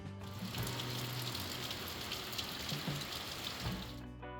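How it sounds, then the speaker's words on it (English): Steady broadband wash of falling water, continuous and even, like rain pattering outside in northern Arkansas, with no voices. "we stayed inside and listened to it rain"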